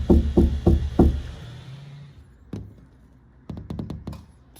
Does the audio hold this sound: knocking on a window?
yes